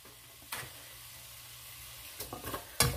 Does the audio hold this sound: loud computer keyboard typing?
no